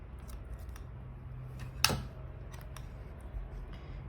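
Scissors snip embroidery thread once, a single crisp cut over a quiet room hum, with a few faint light ticks of handling around it and no talking.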